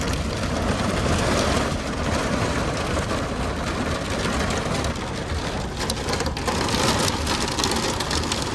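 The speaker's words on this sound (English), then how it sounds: "We got some tiny hail." Tiny hail and rain pattering steadily on a car during a storm on a gravel road, a dense continuous rattle close by with low engine rumble underneath.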